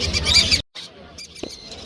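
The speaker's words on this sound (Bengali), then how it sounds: "অ্যামাজন সহ বিভিন্ন প্রজাতির বিদেশি পাখি পাওয়া যায় এখানে।" Exotic birds and pigeons at a busy bird market give a burst of high chirping and squawking, then a brief pause followed by fainter scattered calls and a single sharp knock.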